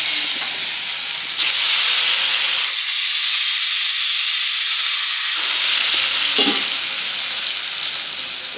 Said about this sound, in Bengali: এখন বেগুনটা ভেজে নিচ্ছি